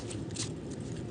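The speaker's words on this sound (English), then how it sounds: "I've stopped shuffling." Oracle cards being shuffled during a crystal reading, a soft continuous riffling patter heard briefly and alone.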